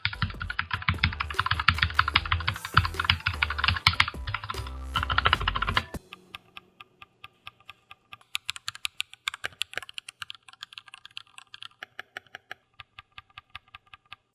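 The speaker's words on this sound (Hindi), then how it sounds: "चलो एक छोटा सा साउंड टेस्ट आपको दोनों कीबोर्ड का सुना देते हैं" Typing on two wireless computer keyboards, an Amazon Basics Pro Series and a Portronics model, in turn: a dense, loud flurry of keystrokes for about six seconds, then sparser, quieter, crisp clicking keys.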